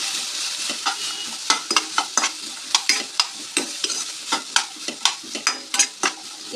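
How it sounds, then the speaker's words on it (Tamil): Turkey berries sauté in oil with turmeric and chili powder for a poriyal, a soft sizzle under a brisk, regular rhythm of close scraping stirs in the pan. "இந்த காய் மஞ்சள் தூள் மிளகாய் தூள் எல்லாமே எண்ணெயில் கொஞ்சம் வதங்கிக்கோங்க"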